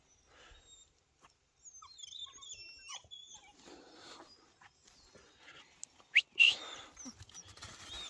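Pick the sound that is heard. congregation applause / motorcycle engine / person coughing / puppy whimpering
puppy whimpering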